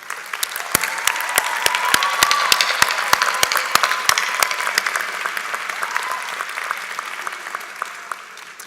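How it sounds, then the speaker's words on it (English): Graduate commencement ceremony crowd applauding in a large hall, sustained clapping with sharp individual claps standing out near the listener, swelling then slowly thinning. "So let's give a round of applause to thank your loved ones who are here with us today."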